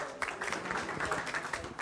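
An audience at the Islam Gymkhana Mushaira 2019 poetry gathering claps loudly to welcome Dr. Ejaz Fatima Patankar, a dense, steady wash of many hands that lasts throughout without a break.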